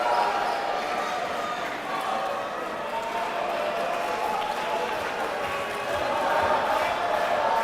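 Home crowd roaring at a high school basketball game in a gym, a steady dense wall of cheering and shouting with sneaker squeaks and ball bounces mixed in, swelling slightly near the end.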